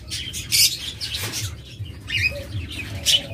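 Pet budgerigars and lovebirds in a breeder's cages give off scattered high chirps and squawks in bursts, fairly close, with a low background hum and no talking.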